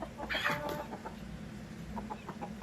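A few close, throaty clucks from a Burmese fighting rooster over a low steady background hum, fading into softer, scattered clucking.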